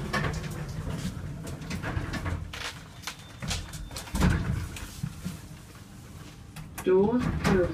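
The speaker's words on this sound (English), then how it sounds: "Doors open." A Pickerings passenger lift at Lakeland in Exeter rolls its doors open with rumbling mechanical movement and clunks, a recorded voice speaking partway through, and a louder rattling slide near the end.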